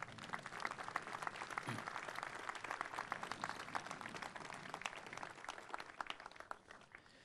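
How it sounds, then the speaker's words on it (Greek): Warm applause at an outdoor memorial procession in Patras, a crowd's even, sustained clapping heard at a distance and fairly faint, without talk over it. "Τους αξίζει ένα θερμό χειροκρότημα."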